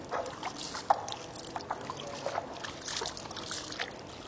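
Water poured over feet during wudu ablution trickles and splashes in small uneven dribbles, close and fairly quiet, with no speech.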